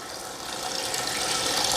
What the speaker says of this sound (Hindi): अब मैं इसके अंदर ऐड करूँगा पानी को।